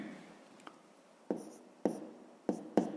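A pen or pencil writes numbers by hand on paper in a quiet room, making soft scratchy strokes with a few sharper taps spaced about half a second apart.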